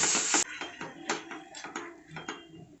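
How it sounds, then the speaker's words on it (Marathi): Khoa milk solids roasting in a pan over low heat, with a utensil scraping and clinking against the metal in a series of short, irregular strokes, close and moderately quiet. "पॅनमध्ये खवा टाकून घेतलेला आहे पहा खवा मंद गॅसवरती चांगला परतून घ्यायचा"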